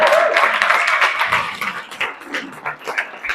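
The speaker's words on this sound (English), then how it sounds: "clap for him" An audience at a business chamber workshop applauds a participant. The dense, loud clapping thins out into scattered, uneven claps.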